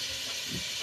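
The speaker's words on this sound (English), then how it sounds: "Let's turn the fan on here" A kitchen exhaust fan runs over a stovetop where stew is being cooked, giving a steady, even airy hiss for a brief moment.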